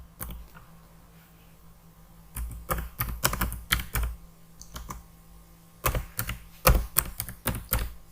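A gcloud command typed on a computer keyboard: sparse clicks at first, then quick bursts of crisp, close keystrokes separated by short pauses.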